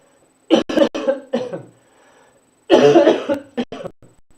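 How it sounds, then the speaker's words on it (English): Two bursts of harsh, repeated coughing, close and loud, separated by a short quiet gap. "Still coughing."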